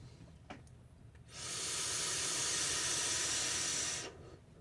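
Airflow hissing through a Royal Hunter rebuildable dripping atomizer vape, a loud steady draw-like hiss lasting almost three seconds, close up, rising sharply and cutting off cleanly over quiet room tone.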